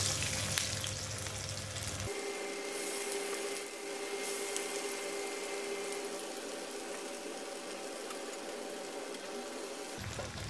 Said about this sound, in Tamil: இப்போ வடையை போட்டு பொறிச்சு எடுத்துடலாம்.